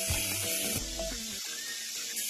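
Tomato, onion and spice masala frying in a pan gives a steady, close hiss and sizzle with small crackles throughout, with no talk.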